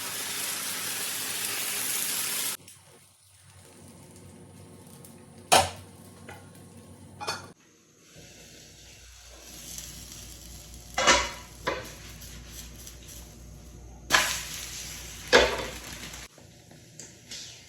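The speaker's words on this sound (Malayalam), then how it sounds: "നമ്മുടെ പാൻ ഉണ്ടല്ലോ നല്ലോണം ചൂടായാലും നമുക്ക് അരിയാൻ ഒഴിച്ചു കൊടുക്കാം" Neer dosa rice batter hits a hot pan with a sizzle, followed by intermittent clinks and scrapes of utensils against the pan amid quieter cooking sounds.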